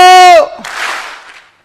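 At a network marketing seminar, a loud held vocal call is followed by the audience clapping once together, a single broad, slightly echoing burst that quickly fades to silence.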